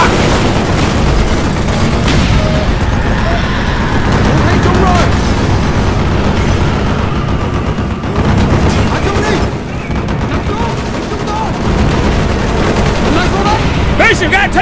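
Heavy gunfire and explosions from a tank battle in the Black Ops video game fill the scene with dense, constant, loud bursts and booms, with voices shouting over the din.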